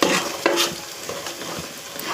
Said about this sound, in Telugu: అల్లం పేస్ట్ వేసి గిట్ట మగ్గనివ్వాలి కాసేపు.